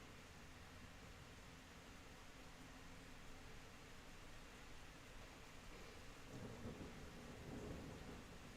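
Thunder rumbles low and long through a steady rainstorm, with constant rain hiss throughout and a slightly louder rolling swell toward the end, faint and distant overall.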